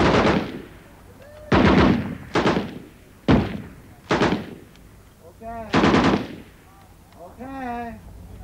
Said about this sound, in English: Gunners, ready on the right, ready on the left, ready on the firing line, sustained fire.